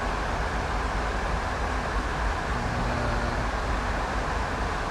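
Twin CSX diesel locomotive engines idle and rumble in Train Sim World, a steady low drone with faint tonal hum under broadband noise, continuous and moderately quiet, without talk.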